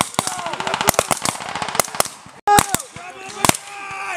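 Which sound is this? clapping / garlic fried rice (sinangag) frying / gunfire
gunfire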